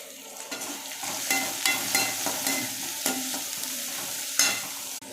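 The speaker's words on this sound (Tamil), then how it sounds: "எண்ணெய் காஞ்சதும் சோம்பு தாளிப்புக்கு, வெட்டி வச்ச வெங்காயம்," Sliced onions and fennel seeds sizzle steadily in hot oil for a mushroom gravy, with repeated scraping stirs of a spoon in the pan and a brief louder clatter near the end; no one speaks.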